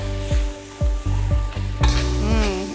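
Cooked rice mixed with raisins is stirred and fried in a hot pan during a Thai cooking class. A steady sizzle runs under about five sharp, rhythmic utensil scrapes, with no talk.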